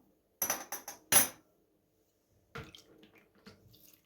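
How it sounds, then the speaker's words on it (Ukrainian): A few short splashy bursts of milk pouring into a bowl of eggs, sugar and salt for pancake batter, then quieter trickling and light clinks. "Наливаємо молока."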